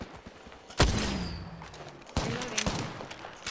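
Gunfire in an Apex Legends match: two sharp, loud rapid bursts of weapon fire, each trailing off, with no voices.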